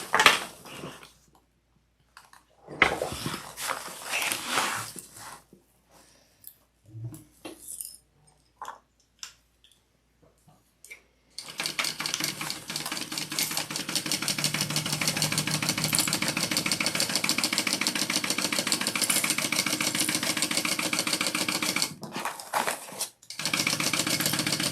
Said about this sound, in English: So I'm gonna sew along there.